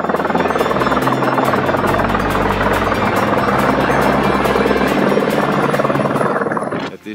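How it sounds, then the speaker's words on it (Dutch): A helicopter on a mountain plateau during an alpine ski trip in spring snow, a loud, close, continuous rotor thrum that fades abruptly near the end. "En de tweede groep die komt zo meteen met de helikopter."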